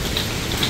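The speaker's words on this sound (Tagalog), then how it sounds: "So grabe ulan dito" Heavy rain pours at an open market in Singapore, a dense steady hiss of drops striking surfaces close by, continuous and even throughout.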